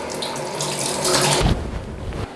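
Tap water runs steadily into a sink as a razor is rinsed under it, a close, continuous rushing splash that shifts in tone midway.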